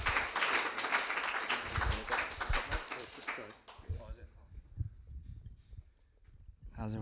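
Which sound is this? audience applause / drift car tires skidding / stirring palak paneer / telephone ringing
audience applause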